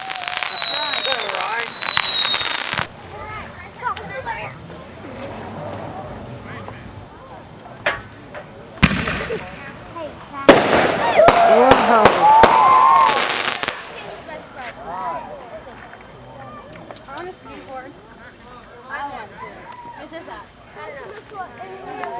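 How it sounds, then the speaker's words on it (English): A loud fireworks display cracks and booms with dense bursts of firecracker-like pops and sharp blasts, over a crowd's murmur and background voices throughout. "These are going to be awesome fireworks this year"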